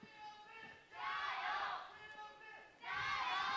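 A crowd of fans cheers at a League of Legends esports match between Topsports Gaming and Vici Gaming, swelling in two loud surges under steady arena noise.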